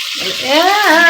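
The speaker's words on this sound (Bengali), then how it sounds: "ভাজা হচ্ছে" Bhola fish fries in a pan while being flipped, giving a loud, close hiss of sizzling oil, with a voice sounding over it.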